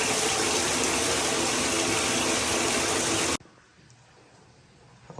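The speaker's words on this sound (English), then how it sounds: "we are draining the entire bathtub after filling it up" A filled bathtub drains in a loud, steady gushing rush that stops abruptly partway through, leaving a quiet room.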